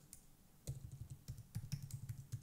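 Code being typed on a computer keyboard, a steady run of close, quiet key clicks with uneven rhythm and no speech.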